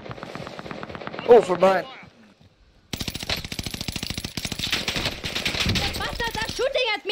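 Rapid automatic gunfire from the Warzone Pacific video game: a short burst with one talking voice, then after a brief pause a long, dense, sustained stretch of loud shots that keeps going to the end.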